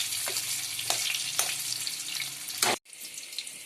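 Potatoes frying in oil in a pan for an Odia crab curry: a steady dense sizzle with a few louder crackling bursts and clatters, briefly cut off near the end before resuming.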